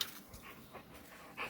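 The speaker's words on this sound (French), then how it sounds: "Oh, tiens, c'est mon chien." A dog panting softly nearby in a quiet indoor space, a steady run of faint breathy puffs with a slightly louder breath at the end.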